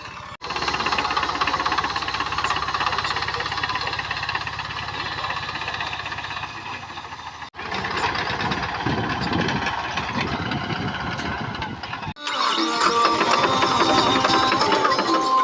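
A tractor engine runs steadily in a farm field, a continuous mid-range rumble with a knocking idle quality that shifts in tone twice but never stops, with no talk.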